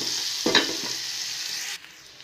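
Salt, turmeric and chili powder fry in hot oil for a sweet pumpkin curry, giving a close, steady sizzle with a quick stirring scrape that drops away abruptly near the end.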